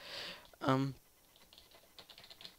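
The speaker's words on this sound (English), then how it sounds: "You're gonna hear me typing" Soft, irregular clicking of keys on a computer keyboard, close and quiet, with a short burst of voice near the start.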